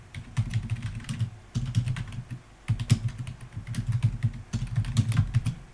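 Quick bursts of computer keyboard typing while code is entered, close and clear clicks in four short runs separated by brief pauses, with no talking over them.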